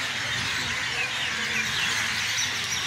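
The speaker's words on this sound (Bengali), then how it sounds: "প্রচুর কি পাখির আওয়াজ হচ্ছে এখানে।" Many birds call together at dusk in Beleghata Lake Park, Kolkata, making a dense, continuous chorus of chirps and twitters that fills the air at a steady level with no clear breaks.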